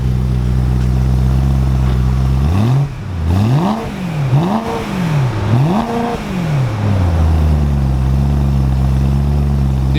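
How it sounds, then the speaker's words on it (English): A BMW M3 with an Eisenmann race exhaust idles loudly up close, then is revved several times in quick rising and falling sweeps before settling back to a steady idle. "Did you rev it?"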